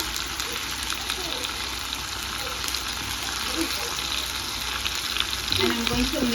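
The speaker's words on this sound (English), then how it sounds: "And I'm going to leave it saute down a little bit" Pumpkin seasoning and black pepper sautéing in a pan give a steady, close sizzle with faint stirring scrapes, rising slightly toward the end.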